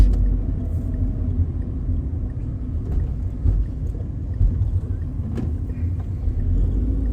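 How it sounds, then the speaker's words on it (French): Renault Twingo 69 hp driving in a street, a low steady engine rumble heard from inside as it speeds up a little and turns, with faint knocks and no talk. "je vais accélérer un peu pour vérifier l'accélération du véhicule"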